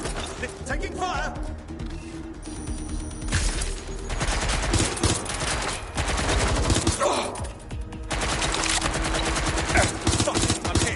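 Bursts of automatic gunfire in Watch Dogs Legion, loud clustered volleys coming in waves over several seconds, with a voice shouting between them.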